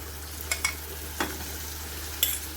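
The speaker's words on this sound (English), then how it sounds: "so I'm going to put in the corned beef now" Corned beef sizzles faintly in a pan on the stove, with a soft hiss under a few sharp clicks and scrapes spaced irregularly.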